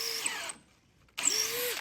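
Makita 18-volt cordless power tool on a boat deck, two short whirring bursts separated by a silent gap, each winding up in pitch, close and moderately loud.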